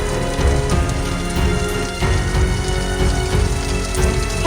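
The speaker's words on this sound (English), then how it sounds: "This is the rain from Harold." Heavy rain from Tropical Storm Harold falls in a loud, continuous, close hiss and patter, steady throughout with no voices.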